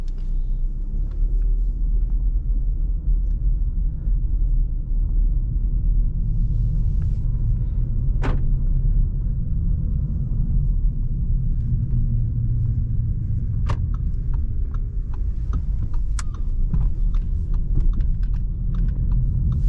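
Inside a 2022 Audi A3 35 TFSI Limousine with a 150 hp engine, steady engine hum and road rumble continue evenly while driving, with a few faint clicks and no talking.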